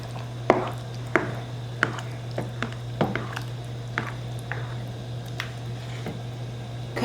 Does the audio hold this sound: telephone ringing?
no